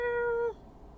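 A pet cat named Luna gives a single clear, drawn-out meow close by, a tonal cry lasting about half a second before fading into quiet room noise.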